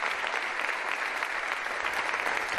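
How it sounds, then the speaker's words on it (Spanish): Sustained applause from an audience at the 2015 Cervantes Prize ceremony honoring Fernando del Paso, a dense, even patter of many hands clapping at moderate distance without pause. "Ahí le vemos aplaudiendo."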